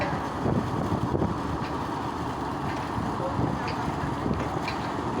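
Engine and water noise from big trawler boats near Chittagong, a steady broadband rumble with wind buffeting the microphone throughout, voices faintly present in the background.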